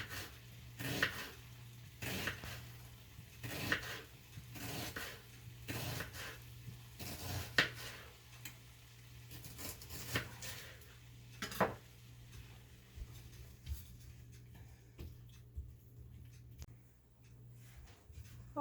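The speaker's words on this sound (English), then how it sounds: "Now I'm just going to thinly slice this half of an onion." A knife thinly slicing half an onion on a cutting board, making a steady series of crisp, regular chops that fade toward the end, with a low hum underneath.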